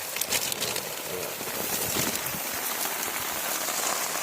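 Rain falls steadily, a dense, even patter of drops spreading across the whole scene.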